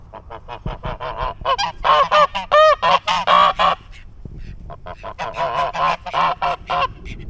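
A flock of geese honking loudly and close by, many overlapping nasal calls in rapid bursts, pausing briefly before starting again.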